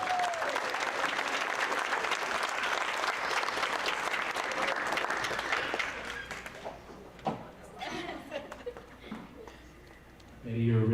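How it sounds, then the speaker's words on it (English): Warm round of applause at a teacher education coin ceremony, loud and continuous for about six seconds, then fading into scattered claps and murmuring voices, with talk resuming at the end. "Can we get a round of applause for Nettie?"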